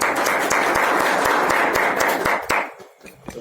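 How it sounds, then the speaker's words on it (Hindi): Loud, dense applause from a group in a room or class, welcoming new joiners, sustained clapping that thins out and stops near the end. "इनके लिए एक जोरदार ताली हो जाए।"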